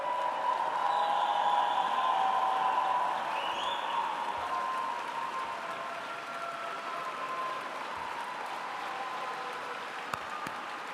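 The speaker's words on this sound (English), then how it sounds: "Let's give them an amazing round of applause." A gala audience claps in a dense, sustained round of applause that holds steady and then eases slightly over about eleven seconds, with no voices rising above it.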